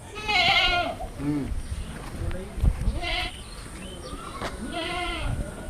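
A goat kid on a farm bleats three times in a row, loud and close, each call a wavering, quavering cry with short pauses between.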